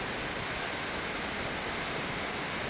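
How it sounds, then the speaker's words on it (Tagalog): Heavy rain pours down in a steady, dense, unbroken hiss of falling water, with no gaps or other sounds. "Grabing ulan."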